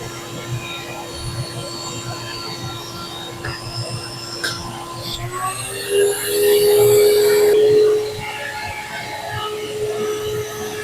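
A homemade vacuum forming machine built with 3D-printed parts pulls air through heated plastic with a steady hum that jumps to a louder, higher suction whine for a couple of seconds before settling back.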